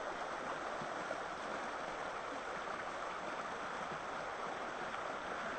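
A Pennsylvania trout creek flows with a steady, even rushing and burbling, close by and uninterrupted, with no voices.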